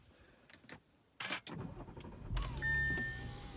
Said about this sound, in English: when you put your foot on the brake and hit the nice start-stop